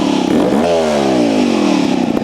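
A Vertigo Nitro JBR 300 two-stroke trials motorcycle revs up close and loud, its engine note climbing sharply, then falling away in a single sustained sweep with a clattery edge.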